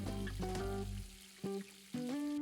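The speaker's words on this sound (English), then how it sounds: "Then we are going to add our fresh tomatoes right in there. We're going to deglaze with red wine." Fresh tomatoes in a hot pan sizzle as red wine is added to deglaze for steak pizzaiola, giving a steady, fairly loud frying hiss with a few brief surges.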